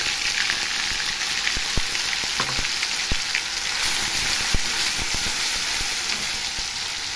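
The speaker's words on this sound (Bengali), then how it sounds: "তেল গরম হয়ে গেছে বন্ধুরা, আদা রসুনের পেস্ট 2 চামচ দিয়ে দেবো" Ginger garlic paste sizzles steadily in hot oil in a pan, a dense continuous frying hiss with a few faint clicks and taps, no talking.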